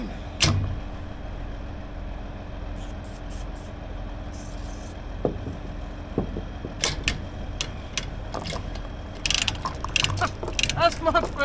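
Ratchet being worked on a stiff grain vac, scattered clicking and mechanical clacks in short bursts over a low background hum, growing busier toward the end.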